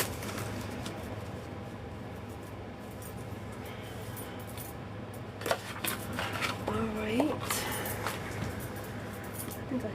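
A deck of cards is shuffled close by, a soft continuous riffling patter with a few sharper flicks near the middle, heard under quiet background music.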